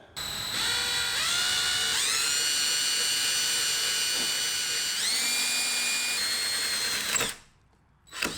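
A drill with a larger bit bores holes through a carbon fiber front lip on a BMW F30. A close, high whine rises in pitch as it spins up, holds steady, briefly bogs, then stops and restarts briefly.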